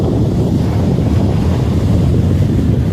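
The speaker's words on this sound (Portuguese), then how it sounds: "Vai dar uma rajada de vento aqui que fechou de poeira." A strong south wind gusts over Lake Itaipu, kicking up dust and hammering the microphone in a loud, unbroken roar for the entire stretch, with no voices.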